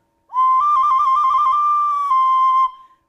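A homemade two-toned wooden whistle blown alone for about two and a half seconds, loud and close, warbling rapidly between its two pitches before settling into a steady held tone.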